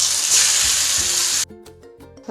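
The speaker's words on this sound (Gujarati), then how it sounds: "અહીંયા જીરું પણ સરસ રીતે તતરી ગયું છે" Cumin and spices sizzle loudly in hot oil for a raw mango chutney, a steady frying hiss that cuts off abruptly partway through, leaving quieter pulsing tonal sounds.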